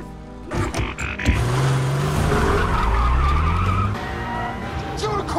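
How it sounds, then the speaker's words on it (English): A car starts up and accelerates away on its own with loud tire skidding and squealing, engine revving over several seconds, with a voice shouting over it. "The car started by itself, I promise!"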